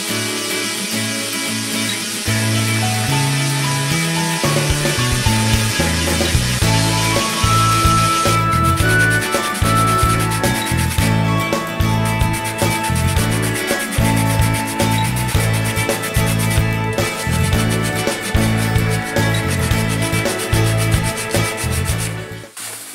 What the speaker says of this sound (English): And now I'm going to sand these up a little and kind of round over all the edges